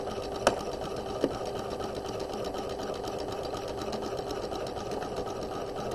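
A sewing machine runs steadily across a fabric shoulder seam, giving a close, even mechanical whir with a couple of sharp clicks near the start.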